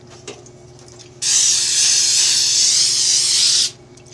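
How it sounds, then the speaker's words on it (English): Cooking spray hisses steadily from a can onto a cookie sheet in one continuous burst of about two and a half seconds, close and loud against a quiet room. "we're going to spray up a cookie sheet."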